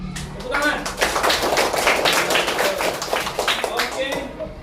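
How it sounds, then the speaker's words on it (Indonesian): A classroom group claps for a student group after a religious education presentation, producing a dense burst of hand claps that runs for several seconds at moderate volume. "Tepuk tangan"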